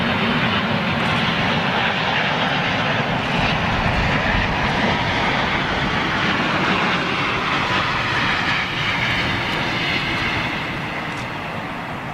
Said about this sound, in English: Suriname Airways A340-300